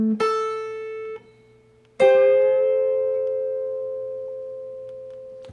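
Electric guitar phrases from a guitar solo: a few picked notes, then one long bent note held and left to ring and slowly fade, clean and close with no talking.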